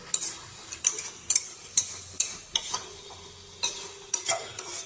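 Duck meat stir-fried in oil in a pan, a low steady sizzle under repeated sharp scrapes and clinks of a spatula stirring at an irregular, unhurried rhythm, close up.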